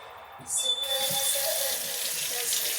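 A tap is opened and water runs steadily into a sink for washing, a soft continuous splashing hiss that starts after a brief quiet moment, fairly faint and close.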